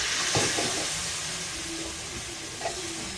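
Thai curry paste stir-frying in a little oil for a spicy pork dish, a continuous hiss and sizzle with faint scraping of stirring, fairly quiet and with no talk.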